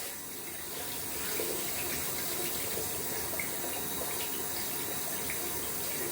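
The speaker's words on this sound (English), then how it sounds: "Just washing out the brush." Water runs steadily from a tap while a shaving brush knot caked with lather is rinsed under it, a constant close splashing hiss with faint shifts as the brush moves through the stream.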